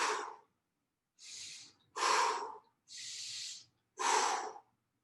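Heavy, forceful breaths during an adaptive fitness workout, five loud huffs close to the mic in a steady rhythm with brief pauses between them, no talking.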